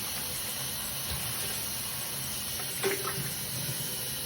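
Running water splashes steadily into a sink, rinsing dishes nearby, with a faint clink partway through and no talking.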